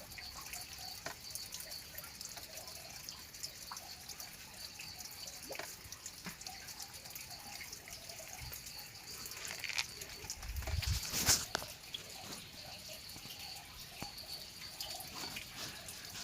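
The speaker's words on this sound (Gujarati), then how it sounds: "અહીંયા પણ પાણી પડે જુઓ" Sparse drips of water falling at an old Zariya Mahadev temple, quiet and fairly distant over a faint hiss, with one brief louder splashing burst partway through.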